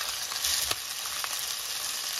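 Skin-on chicken pieces fry skin-side down in hot oil, a steady close broadband sizzle with faint crackles and one brief scrape, no voices.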